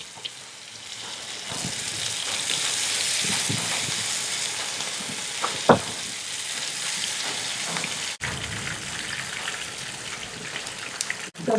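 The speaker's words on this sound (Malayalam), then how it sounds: "ചെമ്മീൻ ചട്ടി കിടന്നതാ ഫ്രൈ ആയിക്കൊണ്ടിരിക്കുന്നു." Prawns frying in hot oil in a pan give a steady crackling sizzle with scattered pops and spits, staying fairly even throughout with no talking.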